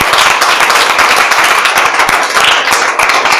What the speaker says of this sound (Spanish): Y denle un aplauso fuerte al Señor